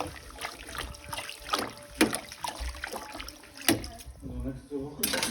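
Food, nettle greens, rinsed by hand in cold water, heard as irregular splashing and dribbling with occasional clinks, close by, with a person talking over it.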